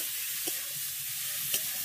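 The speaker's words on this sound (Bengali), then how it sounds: "চিকেনটা দিয়ে ভালো করে চিকেনটাকে এইভাবে একটু কষিয়ে ভেজে নিতে হবে।" Small pieces of marinated chicken sizzle steadily in a pan, with two light scrapes of a spatula stirring them, fairly quiet and close, with no talking.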